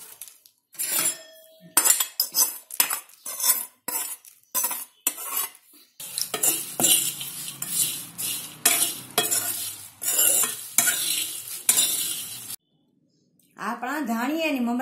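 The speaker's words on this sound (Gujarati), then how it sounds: "હવે આને બરાબર બધું મિક્સ કરશું." Puffed sorghum and rice chevdo being stirred with peanuts, dal, cashews and raisins, a fast run of close scraping, rattling and clinking of spoon against pan with some sizzling, followed by someone speaking.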